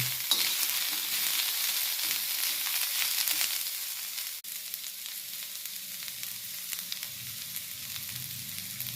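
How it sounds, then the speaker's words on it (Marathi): Steady crackling sizzle of spices tempering in a little hot oil for amla chutney, close and continuous, with light stirring scrapes and no talking. "थोड्याशा तेलामध्ये मी फोडणी दिली आणि आता हे छानपैकी आपल्याला परतून घ्यायचं आहे."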